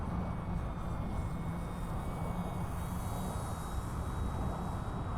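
A Durafly Tundra V3 RC airplane drones steadily on a flyby, a faint continuous propeller-motor hum holding at an even level throughout, with no talking.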